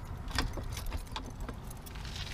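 A set of keys jangles close by in several quick, scattered shakes over a low rumble of a car.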